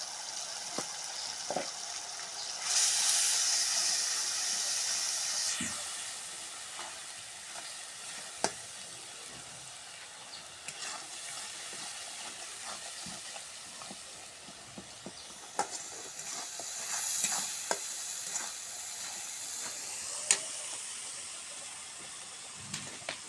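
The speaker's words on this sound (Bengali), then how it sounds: "মশলা কষা হয়ে গেছে দিয়ে দিলাম" Coriander, cumin and turmeric sizzle steadily as they are sautéed in a pan for a Bengali dish with flat beans and pumpkin. Irregular stirring scrapes and clinks sound close up, and there is no talk.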